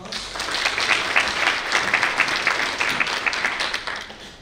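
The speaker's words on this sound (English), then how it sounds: "Let's give them a round of applause." An audience at a university presentation gives a steady round of applause for the presenters, many hands clapping together at moderate volume from start to finish.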